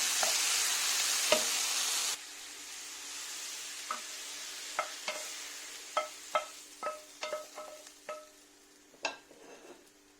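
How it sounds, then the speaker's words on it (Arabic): Minced meat frying in a pan, a soft, steady sizzle with a burst of loud hiss at the start, then scattered spoon scrapes and stirring clinks close by. "maintenant j'ajoute ma viande hachée et je le laisse que 2-3 minutes"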